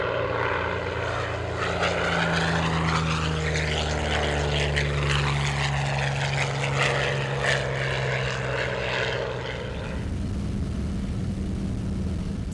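A Curtiss P-40 Warhawk fighter flies past with a loud, steady propeller-engine drone whose pitch sweeps as it passes close by, then eases off near the end.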